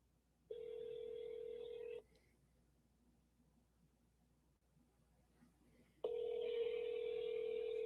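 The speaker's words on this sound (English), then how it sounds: "All right, phone is ringing." A telephone rings twice, two steady electronic tones separated by a long quiet pause, fairly close and clear.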